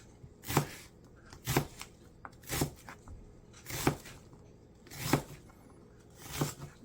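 Knife chopping potatoes or chicken on a cutting board, six evenly spaced sharp cuts about a second apart, close and clear in an otherwise quiet kitchen.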